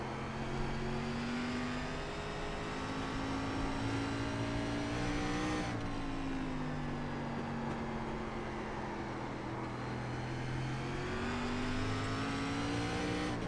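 An SRX race car engine running laps at Concord in iRacing, with a steady loud drone that rises and falls through upshifts and downshifts and a brief tire squeal, heard alone with no talking.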